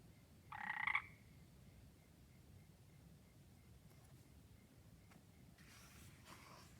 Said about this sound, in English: She brought a frog.